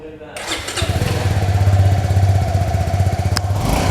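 A Suzuki Gixxer 250 motorcycle starts and settles into idle at its exhaust pipe, a close, smooth, evenly pulsing rumble that holds steady throughout.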